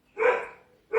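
Two loud, nearby dog barks: one full bark, a pause, then the start of a second.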